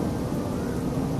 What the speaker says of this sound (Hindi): काले बादल आसमान में छाने लगते हैं और जोर की आंधी के साथ जोर की बारिश होने लगती है।